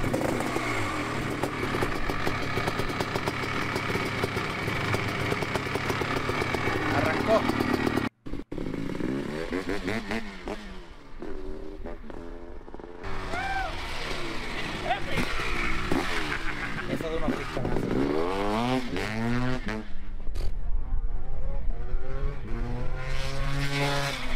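A Kawasaki KX 500 motocross bike built in a garage runs hard, its engine revving up and down in rising and falling sweeps with a brief cutout, while people talk and laugh nearby.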